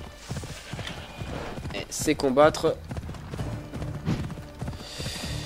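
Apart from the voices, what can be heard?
horse hooves galloping in video game Assassin's Creed Odyssey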